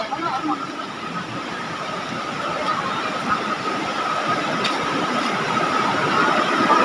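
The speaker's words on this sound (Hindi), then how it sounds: "फाइनली आप लोग पानी का आवाज सुन सकते हो।" Continuous broadband rush of a flowing stream in the Dima Hasao hills, a steady wash of water that holds level throughout with a faint thin tone running over it.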